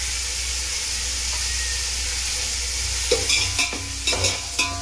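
Onions fry in hot oil with a steady loud sizzle, and toward the end a spoon scrapes and stirs them in the pan with several distinct clanks.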